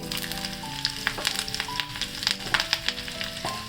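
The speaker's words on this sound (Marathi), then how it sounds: "एका कढईमध्ये तेल गरम करून घेतलेलं आहे त्याच्यामध्ये मोहरी घालते" Mustard seeds crackle and pop in hot oil in a kadhai with a steady sizzle, close and fairly loud, with no voices.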